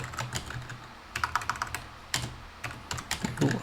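Computer keyboard typing, quick bursts of clicky keystrokes in irregular clusters with brief pauses, close and fairly quiet, no voices.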